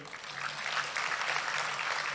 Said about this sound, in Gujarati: એમને જોરદાર તાળીઓથી વધાવી લઈએ